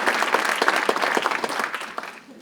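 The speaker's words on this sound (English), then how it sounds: "A round of applause again." Applause from an audience, a dense patter of many hands clapping that gradually thins and fades out after a couple of seconds.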